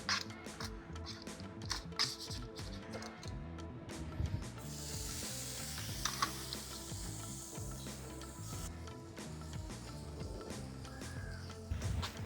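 Steaks searing on a very hot grill, a faint, steady sizzle running throughout, with scraping and rubbing noises and some louder crackling partway through.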